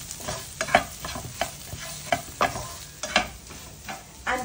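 A spiced chicken filling for butter chicken rolls is stirred and mixed in a hot pan, with a spatula scraping in quick repeated strokes over a quiet background sizzle.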